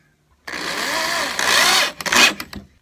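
A power drill drives a screw into the underside of a table, with a loud close whine lasting about a second, a short rising second burst, then a few rattling clicks as it stops.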